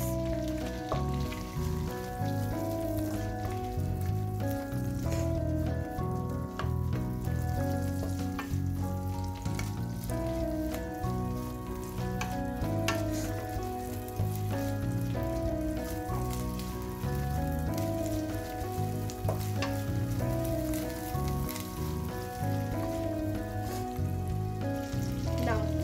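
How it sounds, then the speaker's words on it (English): Onions frying in a pan for fried rice, a steady dense sizzle that continues for the whole stretch beneath background music, with no pauses. "And fry the onions."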